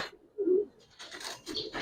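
A black Giribaz pigeon gives a soft, low coo near the start, followed by quieter rustling and faint noises in an otherwise calm setting.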